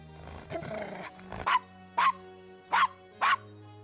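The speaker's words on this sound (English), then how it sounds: "Yep, yapping dogs." A small dog in the video game Gabriel Knight yaps in four short, sharp barks spaced about half a second apart, following a brief muffled scuffle, against quiet game ambience.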